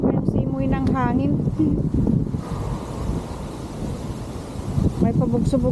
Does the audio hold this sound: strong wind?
yes